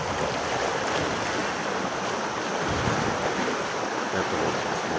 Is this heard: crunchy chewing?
no